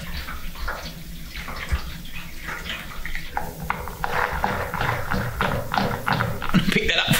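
Water pours and splashes into a metal wax-melting jacket, a continuous gurgling stream close by, with someone talking over it.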